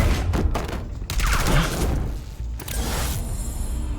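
Bursts of gunfire from a shootout in the Batman Telltale Series video game, with rapid volleys of shots and impacts that fill the clip loudly and steadily, and nobody talks.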